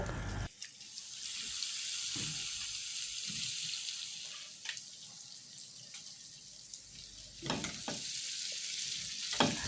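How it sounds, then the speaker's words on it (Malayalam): Sausage frying in coconut oil in a pan gives a steady, moderately quiet sizzle with a few stirring clatters and utensil knocks, close by, with no talking. "ഒരു പാനിൽ കുറച്ച് വെളിച്ചെണ്ണ ഒഴിച്ചിട്ട് ഒന്ന് പൊരിച്ചെടുക്കുക"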